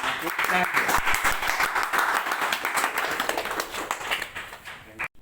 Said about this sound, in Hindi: आपकी जोरदार तालियों के बीच में बुलाना चाहूँगा